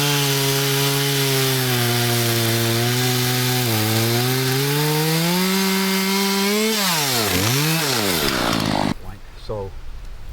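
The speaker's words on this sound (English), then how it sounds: "I'm going to have John take the larger ones and with the chainsaw cut through the pith outside" A chainsaw cuts through sections of a tree log, droning loudly at a steady pitch before rising and dipping through revs, then cutting off, with voices faintly present.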